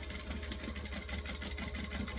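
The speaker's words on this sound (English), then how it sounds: "chain stitch because chain stitching is awesome" A sewing machine chain stitching a seam, a steady fast mechanical whir with a regular rapid pulse, close and moderately loud, with no voice.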